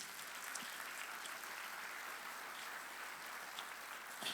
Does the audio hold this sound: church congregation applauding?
yes